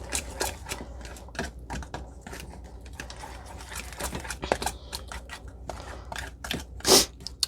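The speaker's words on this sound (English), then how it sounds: "I'm going to simply grab a fork and whisk it all together" A fork whisking dry seasonings in a bowl, producing rapid close scraping taps in a busy rhythm, ending with a louder sharp knock; no talking.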